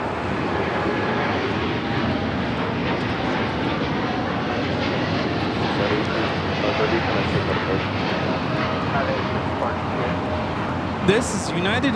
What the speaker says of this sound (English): This is United Airlines 1855 taking off to Newark on the 787-10 Dreamliner.